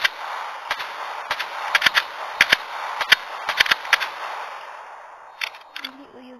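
Call of Duty gunfire cracks out in sharp bursts, mostly clustered pairs and short volleys of loud shots with brief gaps between them, over a low steady game hum and ending in a few scattered rounds.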